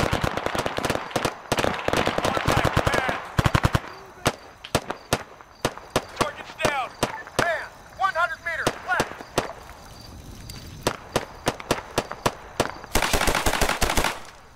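Bursts of machine gun fire in the ArmA 3 desert combat game, rapid sharp cracks in long rattling strings with pauses between them, loud and close, with shouted voices in the mix.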